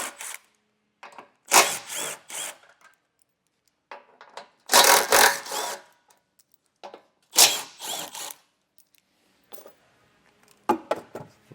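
Bolts are backed off with a hand ratchet while a hidden receiver hitch is fitted to a 2019 Audi Q3, heard as close, intermittent bursts of ratcheting and metal-on-wood scraping separated by quiet gaps, with no talk.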